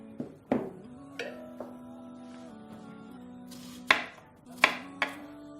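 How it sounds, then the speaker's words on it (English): Onions being cut with a knife on a board while making waina kebab: a few sharp, separate knife strikes, spaced irregularly, close and fairly quiet, with a low tonal hum and clinks behind them. "So I'm gonna cut some onions and"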